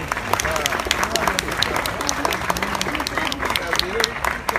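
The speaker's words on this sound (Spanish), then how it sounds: "un fuerte aplauso, por favor" A street mime show audience in Antigua, Guatemala claps in a sustained, dense burst of applause, with crowd voices mixed underneath.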